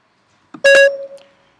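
iPhone Siri voice assistant chime, a short bright two-tone beep with a quick lead-in click, close and clear against silence, no talk.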